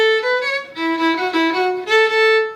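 Solo fiddle carries a simple tune without ornaments, all clean sustained bowed notes that step steadily between pitches, loud and close with no voice.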